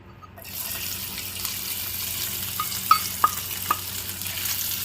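Washed dried silver fish fry in hot oil with turmeric, a steady sizzle rising after a quiet start, punctuated by a few crisp pops and spatula taps.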